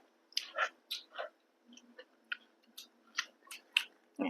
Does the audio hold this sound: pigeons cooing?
no